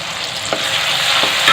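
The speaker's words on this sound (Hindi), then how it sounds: "इनको अच्छे से भूनना है।" Spices frying in a tomato masala for Sindhi chaap chole, giving a loud, close, continuous sizzle with a few quick stirring scrapes over a short stretch.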